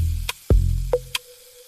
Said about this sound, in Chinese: 这道菜的火力是要求猛火爆炒